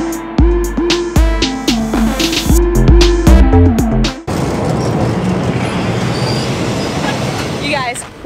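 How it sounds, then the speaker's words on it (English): A train passes close by on the Kanchanaburi railway line, its horn sounding repeatedly before a loud, steady rumble of wheels on track rolls through, with voices nearby. "The train is coming!"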